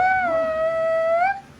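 A dog lets out a sustained, wavering high whine that rises slightly at the end, close and fairly loud, heard on its own in a gym during a squat workout.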